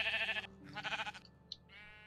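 Minecraft sheep bleat in several wavering calls, two long bleats followed by a brief higher blip and a softer trailing bleat, fairly quiet and alone without talk.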